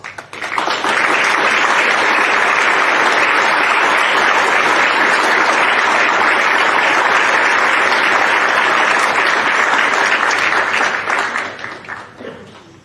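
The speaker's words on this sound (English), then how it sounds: "please give yourselves a round of applause" A large crowd at a University of Maryland commencement ceremony applauds steadily for about ten seconds, a thick wash of clapping that fades out at the end.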